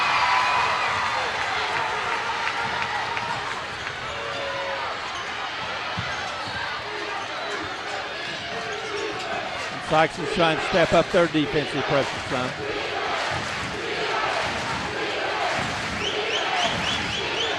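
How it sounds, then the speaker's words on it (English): High school basketball quarterfinal crowd in a gym, a loud roar of cheering and shouts swelling under an announcer's play-by-play, with sneaker squeaks and ball bounces mixed in. "Crowd starting to really get into this game."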